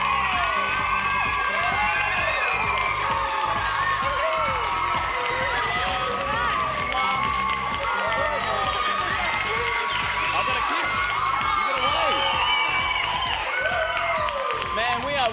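A live studio audience at a Friday night television show cheers, whoops and applauds without a break, loud and close. Shouts and voices mix into the dense crowd noise.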